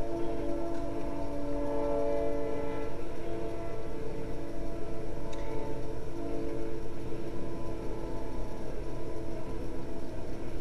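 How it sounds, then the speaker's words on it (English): A train rolls along railroad tracks a block away, a continuous low rumble with steady tonal horn-like drones carrying through the whole stretch at moderate loudness, no voices present. "you'll be hearing the trains going through a lot in my videos"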